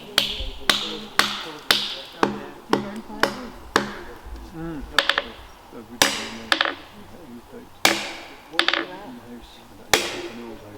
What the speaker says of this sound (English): you can hear the timber starting to crack and split